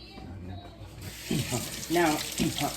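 Tap water runs into a kitchen sink as hands are washed, a steady splashing flow with soft clinks, fairly close and moderate in level, with brief background voice-like sounds.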